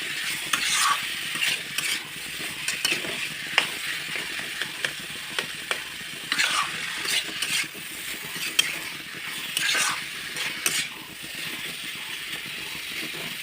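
Jackfruit pieces fry in a pan while a spatula stirs them, giving repeated scraping strokes over a soft sizzle; the sound is close and rhythmic, with no talking.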